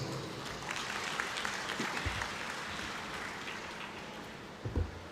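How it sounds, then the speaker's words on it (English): A crowd claps steadily for several seconds at a dental college graduation ceremony, a broad even patter of applause that swells briefly near the end. "So one big round of applause for the Chancellor."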